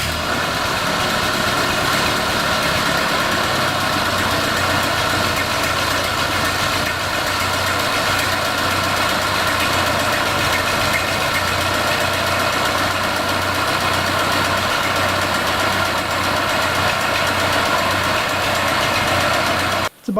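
A Ford 8N tractor engine idles steadily as it warms up, a continuous close mechanical drone with faint knocking vibration and a slight rhythmic pulse, running unbroken until it cuts off at the very end.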